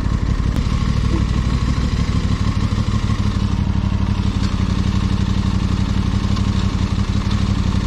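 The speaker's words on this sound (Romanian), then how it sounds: "uite acolo, două motorești." Two motorcycles, including an Aprilia RS660 and a Yamaha MT-07, riding close by with a loud, steady engine rumble and clatter, plus wind noise, continuous for the whole stretch.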